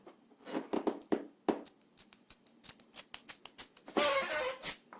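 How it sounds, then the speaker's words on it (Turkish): Scissors snip into a plastic mineral water bottle, a series of sharp close crunching cuts in irregular bursts, ending in a longer rasping cut. "Tam şuradan makası değdirip keseceğim."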